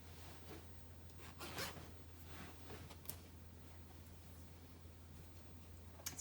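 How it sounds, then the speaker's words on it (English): A quiet clothing zipper on palazzo pants drawn upward in a few short rasping pulls over a steady low hum, with no talking. "And I'm going to bring that zipper up."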